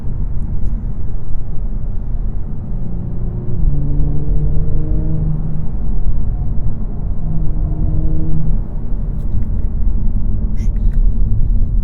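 A 2018 Audi S4 Prestige drives and accelerates, its engine a loud, deep cabin rumble whose pitch climbs through the gears in a few rising sweeps.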